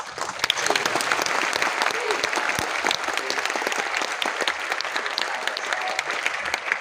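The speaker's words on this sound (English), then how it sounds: "please join me in giving another round of applause" An audience at a university discussion session gives a sustained round of applause, dense clapping filling the room steadily throughout with a crowd murmur underneath.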